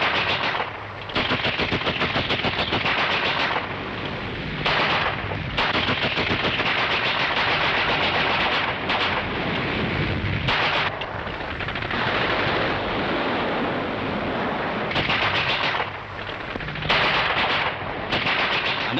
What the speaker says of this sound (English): the enemy throws in all its mortars and machine guns.